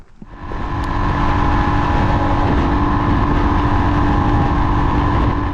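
A Royal Enfield Himalayan 411 motorcycle starts off and rides, its single-cylinder engine droning loud and close at a steady pace with some wind rush, and no talking.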